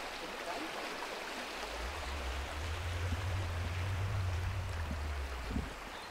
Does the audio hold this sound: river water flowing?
yes